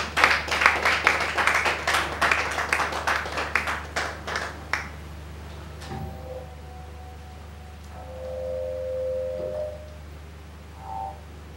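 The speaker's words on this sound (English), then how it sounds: "Please, can you give me a round of applause as you come to the stage?" An audience at a foundation's computer hardware donation event claps in a burst of dense applause that thins out and dies away within about five seconds, leaving a quiet room with a faint hum and a few scattered noises.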